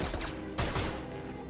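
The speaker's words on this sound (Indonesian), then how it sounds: "Kontak senjata tiba-tiba terjadi setelah musuh melepaskan tembakan." Film gunfire erupts as enemies open fire in a short, dense burst of overlapping shots, loud and crackling, with no talk.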